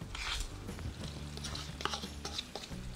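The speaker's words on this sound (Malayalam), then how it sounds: "നന്നായി മിക്സ് ചെയ്യാം" A spoon stirs ground masala into Chettinad chicken in a pot, giving soft scrapes and clinks over a low background hum, fairly quiet and close.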